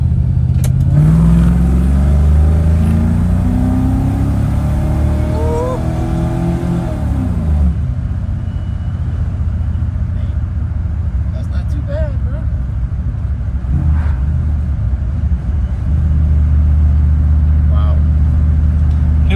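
A heavy car with a Ford 289 V8 revs and pulls away loudly, the engine note climbing through rising sweeps before easing into a lower, steady rumble as it drives off, with people talking over parts of it.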